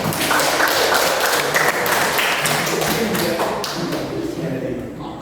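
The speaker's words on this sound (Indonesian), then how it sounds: "Tepuk tangan dulu untuk Agus" Classroom applause for a student named Agus, a dense steady patter of many hands that fades slightly toward the end, with voices mixed in underneath.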